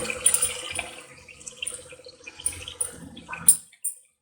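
Water trickles and splashes into a pot of village-style layer chicken curry in short bursts, with a few clinks and drips, fairly close and moderately quiet.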